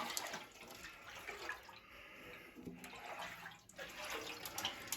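Liquid sloshing and swirling inside a 58-year-old tank as it is swished around to coat every interior side, a steady washing, splashing rush across the whole stretch with small surges and no talk.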